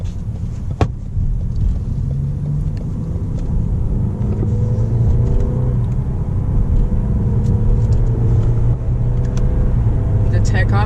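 Turbocharged Lexus GS 200t engine pulls hard in sport manual mode, a loud steady rumble with rising engine tones throughout, a brief knock near the start.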